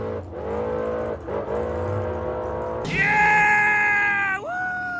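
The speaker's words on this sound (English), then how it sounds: "We got us a race car, you guys." An A/Gas drag race car at the Bakersfield March Meet revs loudly up close, its engine note jumping sharply higher midway, holding there, then dropping back near the end.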